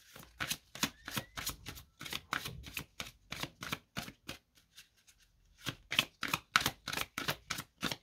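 Tarot cards are shuffled in quick, rhythmic riffles, close and crisp. There is a short pause before the shuffling resumes and a card is drawn, with no talking.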